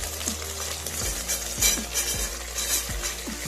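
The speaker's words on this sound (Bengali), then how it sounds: "সেদ্ধ করা সয়াবিনটা এই গরম তেলের মধ্যে ছেড়ে দেব।" Boiled, squeezed soybean chunks fry in hot oil with a continuous close sizzle. Regular scraping and knocking from a spatula stirring in the pan sound over it, and there is no talking.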